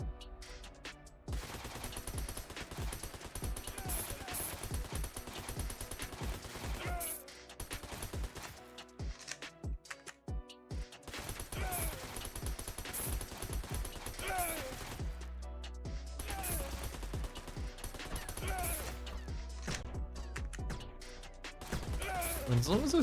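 Cannons in the tower-defense game Puropu Defense Squad fire in rapid volleys, sharp repeated blasts and crashes layered with game music and effects, with someone talking over parts of it.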